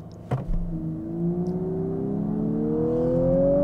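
A rear-wheel-drive 2023 Lexus LC 500h hybrid coupe in Sport Plus launches hard from brake torque, a brief clunk giving way to a steadily rising engine and electric drone that climbs in pitch and loudness as it accelerates.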